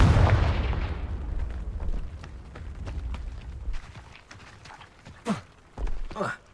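A Confringo spell exploding in a Harry Potter video game, one heavy booming blast that rumbles away into quieter clatter, followed by brief talk.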